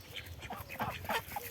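Several ducks quack in a scattered, overlapping chatter at moderate distance outdoors, with soft background noise and no speech.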